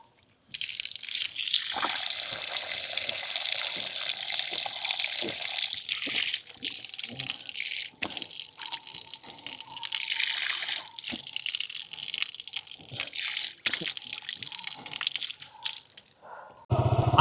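Water runs steadily from a tap or well outlet in a rural village, a continuous splashing flow with irregular drips and spatters, fairly close and alone for most of the stretch.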